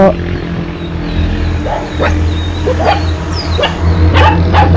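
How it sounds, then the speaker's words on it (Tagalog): Several dogs at a rural house bark and yip in short scattered bursts, some close and some farther off, over steady background hum, with a whimper or two mixed in. "Puro aso yung nandito sumasagot."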